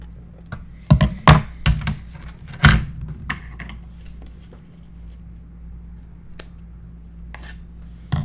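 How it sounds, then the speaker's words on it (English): Scissors cut paper along a score line for a Stamperia Sleeping Beauty mini album journal, several sharp close snips clustered early then sparse clicks, with quiet pauses between. "You need to make sure you cut right up to the score line"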